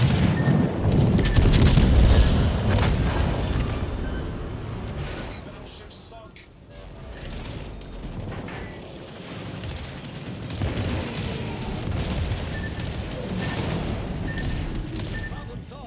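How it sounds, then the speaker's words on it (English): Warship main guns booming and shells exploding in a World of Warships Legends naval battle, heavy low rumbling blasts strongest near the start, then a sustained dense roar of game combat with someone talking over it. "Do we have enough time to fire our main guns before he or I explode?"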